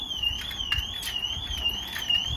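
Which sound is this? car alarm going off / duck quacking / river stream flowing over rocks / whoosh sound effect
car alarm going off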